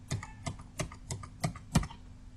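Keys clatter on a computer keyboard as the backspace key is pressed repeatedly, five or six quiet, evenly spaced clicks close by, each about a third of a second apart.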